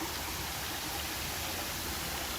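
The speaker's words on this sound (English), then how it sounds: "Waterfall's looking good." A waterfall with strong flow in Cuyahoga Valley National Park, Ohio, gives off a steady, broad rushing roar that stays even throughout, with no voices.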